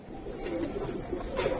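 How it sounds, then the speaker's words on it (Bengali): Silver Pakistani high-flyer pigeons cooing softly in a loft, low murmuring coos with a faint background hiss and no clear voices. "দেখেন তো কবুতর"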